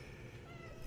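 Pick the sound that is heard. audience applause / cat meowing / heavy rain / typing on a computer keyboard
cat meowing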